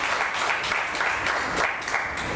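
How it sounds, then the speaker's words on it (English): An audience at an Independence Day celebration applauds after a student performance, a continuous, fairly loud spatter of many hands clapping for a couple of seconds. "One more round of claps to Swara."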